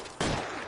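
A single sharp burst of gunfire from a shootout in the video game L.A. Noire, loud and close, with a dense crackling tail that lingers for a fraction of a second.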